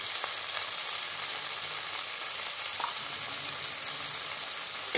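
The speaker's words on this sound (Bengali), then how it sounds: "এখানে আদা জিরে কাঁচা লঙ্কা বাটাটা দিয়ে দেবো, দিয়ে খুব ভালো করে কষে নেবো।" Ginger, cumin and green chili paste frying in a pan for a jackfruit and chickpea curry, an even hissing sizzle with a couple of soft stirring knocks, steady and close with no talking.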